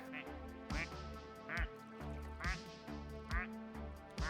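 A squeaky rubber duck quacks in the pool game Placid Plastic Pool Party, repeating in a steady rhythm of short, clear quacks about once a second, close and fairly loud.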